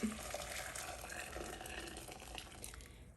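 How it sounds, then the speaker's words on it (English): Boiling water poured over food in a kitchen, a soft, steady liquid rush that runs evenly and fairly quietly throughout with no talk. "I'm going to go ahead and put this in and pouring the hot water over it"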